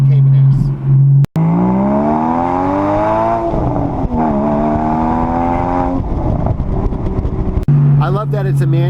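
A Porsche Boxster S with an aftermarket exhaust and manual gearbox revs up loudly and close, its engine note climbing through the gears, dropping on shifts, then settling back to idle.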